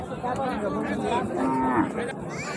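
A very thin, bony cow lets out a drawn-out moo at Raniganj cattle market amid crowd chatter and other livestock noises nearby.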